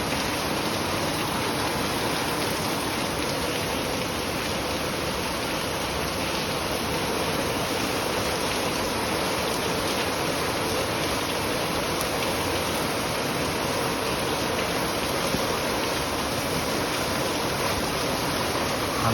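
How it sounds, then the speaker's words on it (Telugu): Very heavy cloudburst rain pouring down at Malkajigiri, with water rushing along a narrow road, forming a dense, continuous roar of downpour and running water throughout. "చాలా చాలా భారీ వర్షం పడుతుంది ఇక్కడ"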